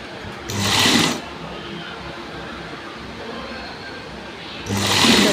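A sewing machine stitches a blouse in two short, fast whirring runs about a second each, separated by a quieter pause full of low room noise.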